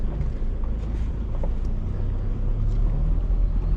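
Off-road vehicle crawling slowly in first gear low range along a rocky track among trees, a steady low engine rumble with some wind buffeting.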